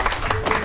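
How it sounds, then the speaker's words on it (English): A short burst of steady clapping from a small crowd at an interview event, with no talk over it. "Applause, applause."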